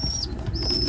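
Young racing pigeons in a loft, with a brief rush of flapping wings and soft cooing, close and loud in a short burst.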